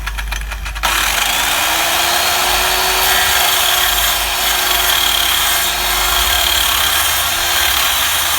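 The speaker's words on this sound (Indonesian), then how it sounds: "Kalian juga bisa memakai gergaji manual yang mungkin sama." A hand saw cutting wood to make a bucksaw, giving a steady, continuous rasping drone that runs almost without pause for several seconds, close and loud.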